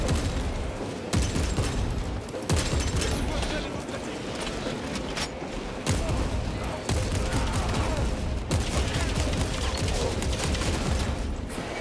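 Dense, loud battle din from the shooter Warhammer 40K: Space Marine 2, with enemy gunfire crackling in ragged bursts through a thick wash of combat noise against hordes of foes, continuous across the whole stretch, with a voice faintly mixed in.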